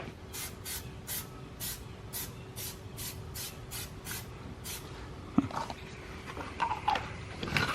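Plasti Dip hisses from an aerosol can onto a car bumper tab in about ten short, evenly spaced bursts, followed by a few faint clicks and handling noises.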